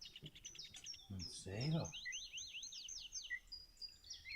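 Small birds chirp and tweet in rapid, repeated calls through the clip, moderately close, while a person speaks briefly near the start.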